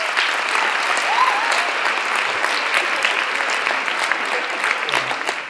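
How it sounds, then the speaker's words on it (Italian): An audience at a school meeting claps steadily and loudly throughout, a dense, sustained applause with no pauses. "il primo applauso va fatto a noi che la scuola la vogliamo diversa."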